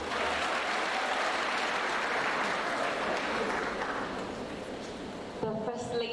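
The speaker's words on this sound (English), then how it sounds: "May we please give a round of applause." An audience at a formal women's event in Zimbabwe breaks into sustained applause, a dense wash of clapping that gradually thins toward the end, where a voice begins speaking.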